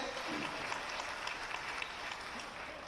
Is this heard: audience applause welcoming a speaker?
yes